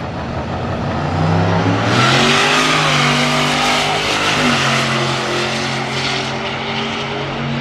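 A boosted Audi S6 and a Chevrolet Silverado pickup race side by side. Loud engines roar and climb in pitch as they accelerate hard, with no talking.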